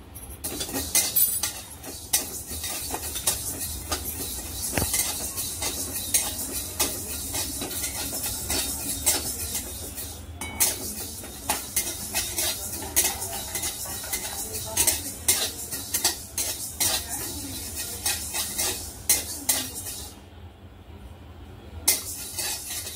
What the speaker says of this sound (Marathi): मेथी सुद्धा भाजून घ्यायची